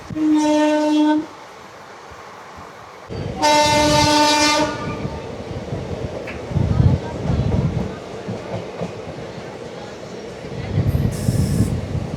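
The 13431 Balurghat Express sounds two long, loud horn blasts, then keeps rumbling along with steady rhythmic wheel clatter and a brief distant horn toot near the end.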